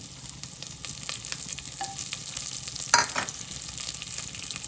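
Green chilies and black pepper frying in hot oil for pongal, a close, steady sizzle with quick stirring scrapes and a brief louder crackle near the middle.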